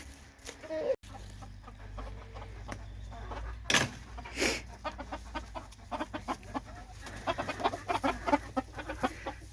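Silkie chickens clucking in a coop with a broody hen and day-old chicks: soft, rapid clucks and murmurs that grow busier toward the end, close by, with a thud and a rustle early on.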